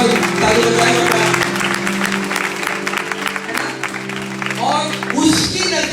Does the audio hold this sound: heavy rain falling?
no